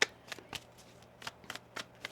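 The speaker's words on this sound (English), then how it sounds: "One more shuffle here." Tarot cards are shuffled by hand in a quiet room, giving a series of short, crisp riffling bursts in an uneven rhythm, close and soft, with no talking.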